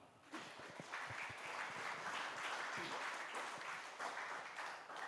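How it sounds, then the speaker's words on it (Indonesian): Sustained applause from a large crowd at a Christmas celebration, steady and loud for several seconds, with a few cheers and voices mixed in. "mari kita tepuk tangan buat Tuhan"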